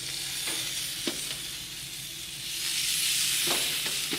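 Pre-trimmed lamb lollipops (lamb chops) sizzle steadily on a hot grill, a broad close hiss with a few soft clicks and pops, swelling louder in the second half as the meat settles onto the grate.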